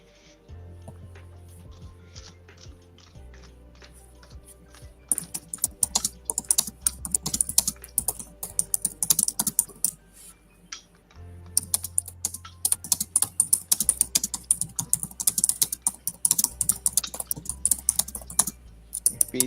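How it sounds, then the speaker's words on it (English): Loud typing on a computer keyboard, a dense, continuous clatter of keystrokes with short pauses, close to the microphone over a faint low hum. "you must have a typewriter as a keyboard"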